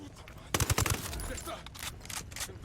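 Automatic gunfire in the Ghost Recon Wildlands video game, a burst of rapid shots at an enemy firebase, loud and close, followed by scattered distant shots and background game noise.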